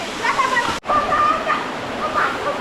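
Udtoy waterfall in the Bandarban hills roars steadily and loudly up close, a dense continuous rush of falling water with a brief dropout, and faint voices beneath it.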